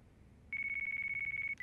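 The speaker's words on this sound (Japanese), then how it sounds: "電話、" A phone rings in Yakuza 5: a steady, pulsing electronic trill starts partway through and repeats in rapid even bursts, loud and clear over quiet background ambience, with no talking.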